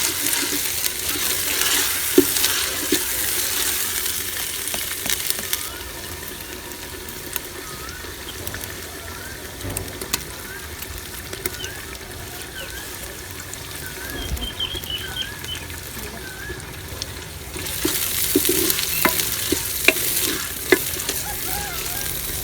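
Garlic and ginger paste with green chillies sizzles in oil over softened onions, a steady frying crackle with occasional stirring scrapes, louder bursts near the start and end, and no voices.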